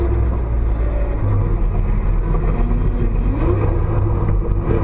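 A car engine rumbles and revs at a drift school while the driver spins doughnuts; a low, steady drone runs throughout with slight swells in throttle and no talk.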